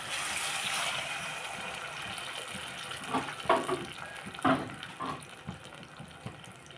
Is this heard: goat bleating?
no